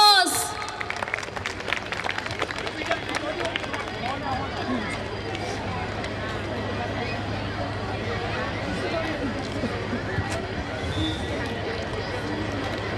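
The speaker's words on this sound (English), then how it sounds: "Give him a huge round of applause." A crowd at a school annual function claps for the chief guest. The clapping starts loud, then settles into a long, steady wash of applause mixed with hall murmur and background chatter.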